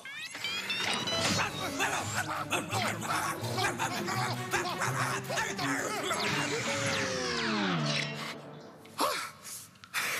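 A dog barks and yips in quick, excited bursts over a busy, cluttered background, with short gaps between and a brief whimper-like sound near the end.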